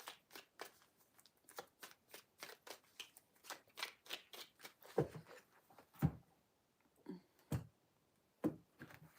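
Tarot cards being shuffled by hand, a quiet series of rapid riffles and soft slaps, some sharper thuds as the deck is squared, close and alone.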